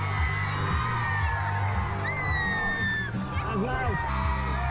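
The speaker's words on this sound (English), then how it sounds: "Find someone who's screaming so loud I can hear them." Crowd at a live show screaming, whooping and cheering loudly and continuously, with children's high shrieks rising above the dense roar of voices.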